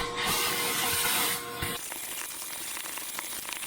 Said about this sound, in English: Let's go give this car a quick vacuum